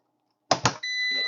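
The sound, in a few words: EG4 6000EX inverter beeping during firmware update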